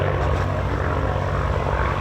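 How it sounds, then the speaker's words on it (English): North American Navion propeller aircraft flying past at an airshow, a loud steady engine and propeller drone holding at a constant level throughout, with no talk heard over it. "the North American Navian, Simon Tilling."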